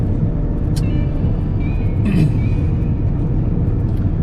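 An Aston Martin DBX SUV with a 4-liter twin-turbocharged V8 drives under power, a loud, steady engine and road roar from inside the cabin with a few faint higher whines and no talking.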